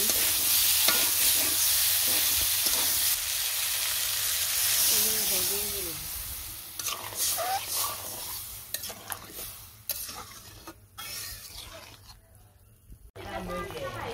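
Fish curry stir-fried in a pan in a village kitchen, with a loud sizzle and hiss at first and scraping stirs, then intermittent clatter and thinner frying noise as voices are heard nearby.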